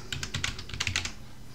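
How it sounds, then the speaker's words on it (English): Quiet, close typing on a computer keyboard: a quick burst of light key clicks in an uneven rhythm, then a short pause, alone with no voices. "and I'm going to type in gradient."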